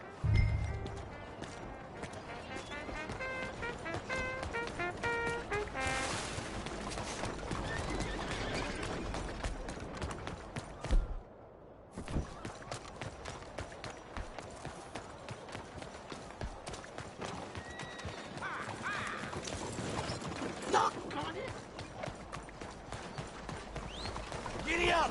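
Horse hooves clip-clop at a steady riding pace in the Red Dead video game, with a neigh or two, over a continuous bed of game music and ambience, with voices heard throughout.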